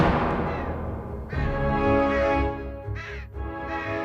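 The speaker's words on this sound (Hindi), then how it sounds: "कौवा चिल्ला रहा है।" A crow caws loudly and close by in several harsh, drawn-out bursts separated by short pauses, with no talking over it.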